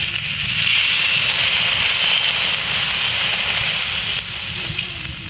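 Potato and pointed gourd curry simmering in a pan after water is added, giving a steady close bubbling and hissing sizzle that holds at an even level throughout.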